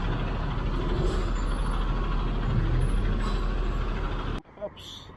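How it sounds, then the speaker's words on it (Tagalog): Road traffic heading toward BGC: trucks and buses give a loud, steady engine rumble with hissing air brakes, then the sound cuts off sharply near the end, leaving a short quieter stretch. "Medyo may traffic na rin eh, oh."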